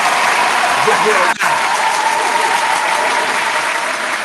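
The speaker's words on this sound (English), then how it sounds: "Round of applause for Johnny Six, man" Round of applause on a mixshow for the artist Johnny Six, a broad, dense wash of clapping that stays loud and steady, with a brief dip partway through, and no talk over it.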